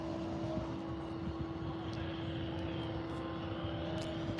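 Steady aircraft engine drone with a constant tonal hum, a plane idling or taxiing nearby, continuous and fairly loud with no voices.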